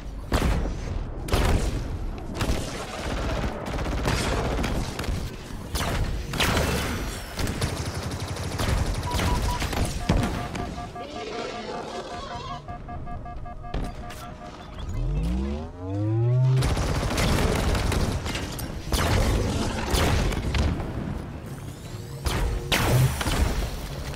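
Heavy gunfire in Halo Infinite aimed at an enemy energy shield: long dense bursts of rapid shots with booms and impacts, a short lull, then more close, loud shooting.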